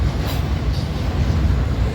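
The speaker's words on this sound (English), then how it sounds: "here comes a Conrail for the fallen flag, guys" A Conrail freight train passes on the Blair subdivision, a dense, continuous low rumble with steady rolling noise throughout, fairly loud and close, with no talking.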